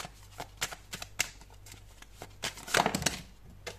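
Tarot cards shuffled by hand in a series of quick, crisp riffling bursts, close and fairly soft, with a louder flurry near the end and no talking.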